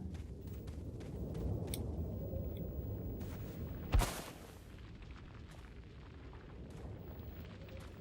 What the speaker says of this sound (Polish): O, o, o, o, o strzały.